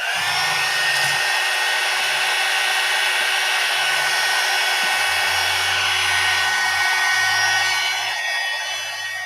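A hair dryer blows steadily and loudly for the whole stretch, a continuous whooshing hiss with a whining motor tone, while faint low rumbles come and go beneath it.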